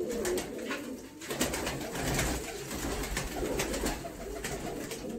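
Pigeons cooing in a loft kept by a Punjabi pigeon fancier, soft repeated low coos close by over a steady background murmur, no talk.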